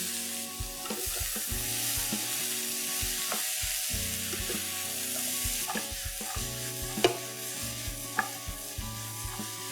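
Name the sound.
peas and bottle gourd frying and stirred in pan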